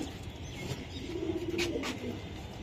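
Pakistani Kamagar pigeons give soft, low coos at close range, a few rolling calls rising and fading over a quiet background hum without speech.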